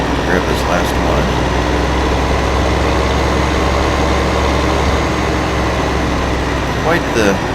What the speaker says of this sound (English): Quite the better tractors than we were using in the other map.